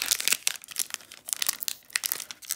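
A 2020 Upper Deck Series 1 hockey card pack wrapper is torn open up close, a busy run of crinkling and crackling foil plastic with no pauses and no speech.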